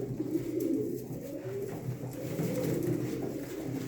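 Pigeons at a bird auction coo softly and continuously over low background murmur, with several overlapping birds giving a steady, throaty burble close by.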